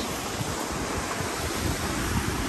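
Water flowing at Ponmudi dam in the Munnar hills: a dense, steady rushing wash with no breaks, loud and close, partly mixed with wind noise on the microphone.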